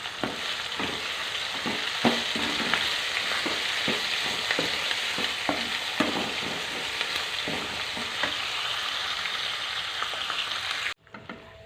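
Green chillies, onion pieces and curry leaves frying after cumin and mustard seeds, a steady loud sizzle with regular stirring scrapes and taps close by, cutting off abruptly at the end.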